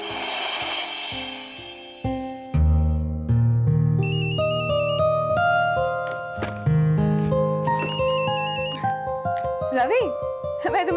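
A phone ringtone plays a bright chiming melody, loud and close, after an opening burst of noise, with a voice briefly heard alongside it.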